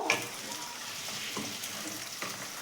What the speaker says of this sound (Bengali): পেঁয়াজ কুচি দিয়ে দিচ্ছি ওই তেলেতেই পেঁয়াজটাকে খুব ভালো করে ভাজবো